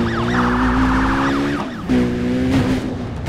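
A wailing police siren in the video game Need for Speed Undercover sweeps up and down continuously, loud and close, with a steady engine-like drone underneath and a brief dip partway through.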